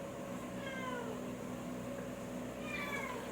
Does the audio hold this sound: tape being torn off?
no